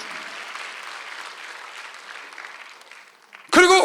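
A church congregation applauds during a Sunday worship service, steady dense clapping that fades out after about three seconds, followed by a voice speaking up close at the end.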